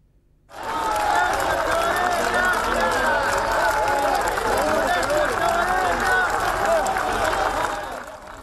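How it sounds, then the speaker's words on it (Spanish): A large crowd lining the streets of Montevideo applauds steadily during a state funeral procession, with political chanting mixed into the dense, sustained roar that holds loud and close throughout. "Un fuerte aplauso, expresiones de gracias Tabaré y cánticos de militancia política acompañaron el recorrido del cortejo fúnebre"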